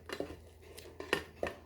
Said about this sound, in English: You hold it and just clunk them in there.